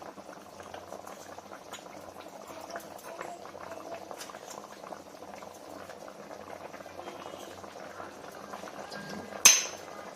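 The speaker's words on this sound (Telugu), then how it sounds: "కర్రీ మరుగుతుందండి." Fish curry bubbles in a pot at a rolling boil, a soft continuous burble of popping bubbles, capped near the end by a single sharp clink of utensil on metal.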